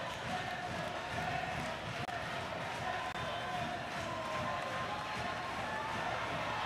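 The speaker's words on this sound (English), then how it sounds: "The two crowds are going at it right now." Rival crowds at a high school boys basketball championship game, a loud continuous roar of cheering and shouting that fills the gym, with no breaks, and an announcer's voice faintly under it.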